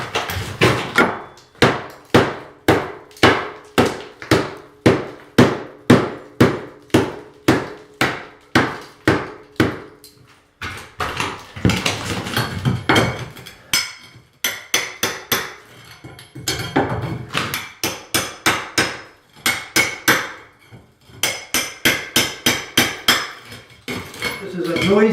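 Tile being pried and hammered off a lath and plaster wall, loud rhythmic metallic strikes repeating steadily, broken by stretches of cracking, scraping and falling debris.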